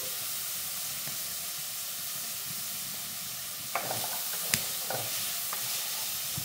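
Garlic joins onion frying in a hot pan, giving a soft, even sizzle, then a few sharp clinks and scrapes of stirring near the end.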